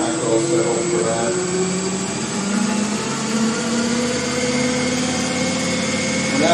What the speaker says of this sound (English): oil pump is running